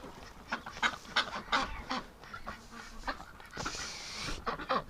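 Wintering domestic ducks and geese calling in a farmyard, a run of honks and quacks at moderate distance, fairly faint and overlapping.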